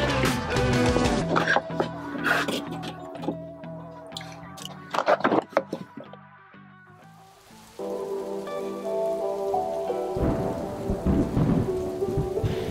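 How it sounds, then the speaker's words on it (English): Rain pelts a van window and wind howls, with deep rumbling thunder rolling through; heavy, dense storm noise that swells and eases, with gusty bursts. "The wind is howling, the rain is pelting the window"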